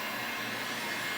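A heat gun blows hot air onto vinyl wrap on the trunk of an Elantra N, a brief, steady, close whooshing hiss at constant level.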